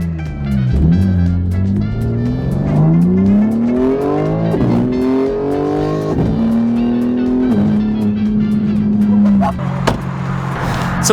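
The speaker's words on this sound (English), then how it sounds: "Alright, rev it." A car engine revs hard and repeatedly, pitch climbing through several gear-like sweeps then dropping, loud and close, with a crackle of exhaust at the end.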